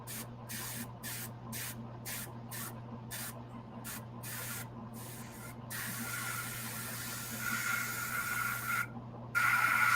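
An airbrush sprays skin-tone paint onto a hand of a painted figure, giving a faint, close hiss in short bursts and longer passes over a steady low hum, with no talk.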